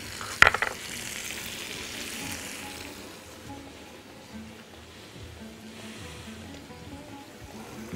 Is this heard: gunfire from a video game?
no